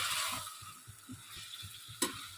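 Onion and mixed vegetables fry in a pan for veg pulao, a soft continuous sizzle with quiet, regular stirring scrapes and one sharper clack near the end, no talking.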